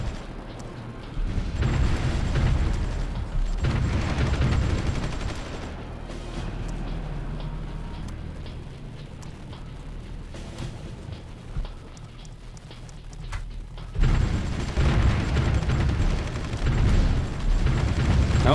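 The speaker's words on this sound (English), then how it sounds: "let's get all our infantry lined up, ready to attack their exposed artillery" Battle effects from the video game Supreme Ruler Ultimate, set in Kosovo, carry on continuously, with rumbling artillery booms and bursts of gunfire that swell, ease off through a quieter middle stretch and then surge loud again.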